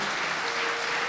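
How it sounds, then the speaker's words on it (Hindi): Church congregation applauding during a service, a brief, even wash of steady clapping. "आपकी तालियां बजाएंगी, किसने कितनी बरकत पाई है"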